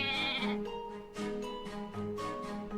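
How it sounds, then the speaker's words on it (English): A lamb bleats in the Professor Layton vs. Phoenix Wright video game, a series of several wavering, nasal calls that come close together and sound clear and near, with no talking over them. "Goat noises. Or lamb noises. They're a lamb, not a goat."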